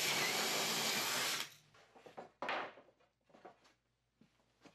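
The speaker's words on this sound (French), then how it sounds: "vous pouvez à nouveau déposer les lattes les unes sur les autres et en percer 2 ou 3 en même temps" A power drill bores through two or three stacked wooden slats for a bathroom wall, a loud steady whine for about a second and a half that cuts off, followed by scattered clattering of wood being handled.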